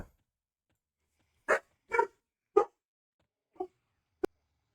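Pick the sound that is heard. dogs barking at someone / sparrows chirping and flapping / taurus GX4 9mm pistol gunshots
dogs barking at someone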